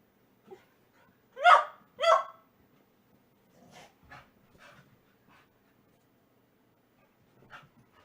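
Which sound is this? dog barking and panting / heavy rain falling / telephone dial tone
dog barking and panting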